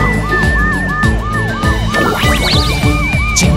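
Animated police car siren from a children's song about a super radar police car, a wailing two-tone siren repeating steadily over bright backing music, loud and close.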